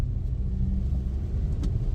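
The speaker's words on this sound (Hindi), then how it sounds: "मतलब यार इतना स्मूथ हो गया है इंजन, देख रहे ना पिकअप" A Maruti Brezza with an overhauled engine accelerates on a rain-wet road, giving a low, steady engine and road rumble up close with no talking.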